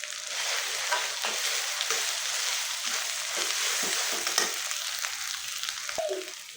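Black mustard paste sizzling and frying in hot oil for raw mango pickle, a steady close crackle with occasional stirring scrapes throughout, no talk.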